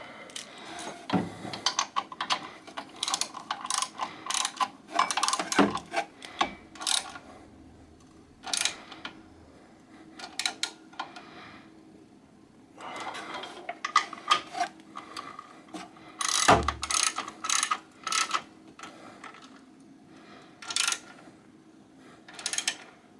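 A ratchet tightening bolts on a Sole treadmill during a drive belt replacement, with bursts of rapid close clicking and metallic ticks, occasional clunks, and quiet gaps between bursts.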